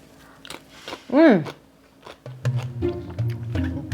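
A bite of chunky homemade tomato, onion and cilantro salsa chewed up close, with a loud crunching burst near the start followed by softer, uneven mastication.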